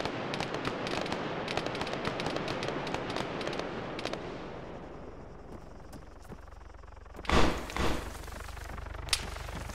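Rapid bursts of distant gunfire crackle in Arma 3, a dense stream of sharp shots that thins out, then two louder nearby reports land a few seconds later and a final lone shot rings out.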